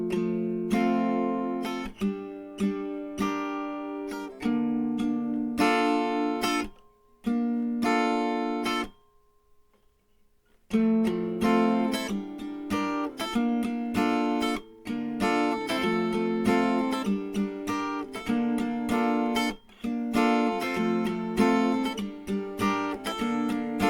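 An acoustic or electric guitar plays the chords of a song in a tutorial setting, strummed and sustained in steady bursts with a brief gap partway through, first slowly and then at standard tempo, with no talking.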